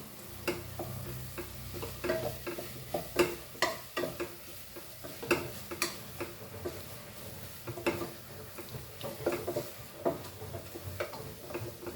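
Spoon scraping and stirring crab masala seasoned with salt in a pan over a soft sizzle, with irregular clicks and taps against the metal at close range.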